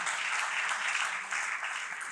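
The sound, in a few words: audience applause at conclave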